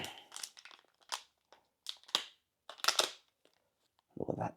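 Camera packaging, the box for a Fujifilm X100VI, is cut open with a knife in sharp, close bursts of crinkling and crunching separated by pauses, ending in a softer rustle; no talking.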